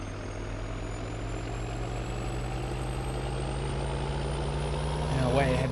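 Steady engine drone of a tractor driving in Farming Simulator on console, a constant low hum carrying on evenly throughout with a brief shift near the end.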